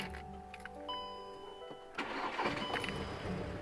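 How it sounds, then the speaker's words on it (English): A manual-transmission car with a gear-selection fault has its engine cranked: a brief starter whir, then the engine catches and settles into a steady idle, heard close up. "let me go ahead and start the car."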